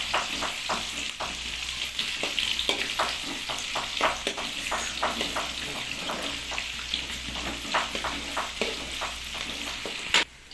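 Onions fry until light brown in hot oil for a chicken dish, with a steady, dense sizzle close by. Frequent clicks and scrapes of stirring sound throughout, and a sharper clatter comes near the end.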